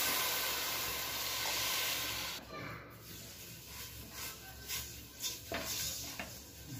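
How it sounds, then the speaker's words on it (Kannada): Sugar syrup of sugar and water bubbling as it boils in a pan, a soft steady hiss and simmer with light clinks of a utensil, close and fairly quiet. "ಸಕ್ಕರೆ ಕರಗಿ ಕುದಿಯಕತ್ತಿದೆ"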